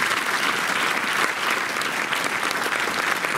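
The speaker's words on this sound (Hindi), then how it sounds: "जोरदार तालियां हो जाए ठाणे ACS के लिए." Loud, dense applause from the audience at a Rotary Club of Thane Aces event, honoring Thane ACS, a steady wash of many hands clapping with no gaps.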